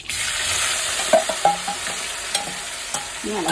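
Cauliflower and curry leaves frying in coconut oil, a dense steady sizzle close up, punctuated by several brief spoon knocks and scrapes as the pan is stirred, with no one speaking.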